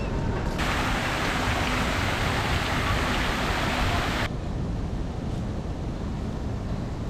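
Steady, dense hiss of rain fills the whole stretch, with a brighter layer cutting out partway through, leaving a softer wash.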